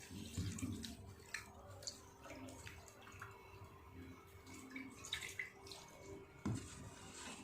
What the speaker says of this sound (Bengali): চালটা খুব ভালো করে ধুয়ে নিলাম